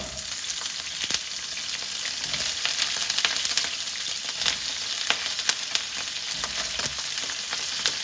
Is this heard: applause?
no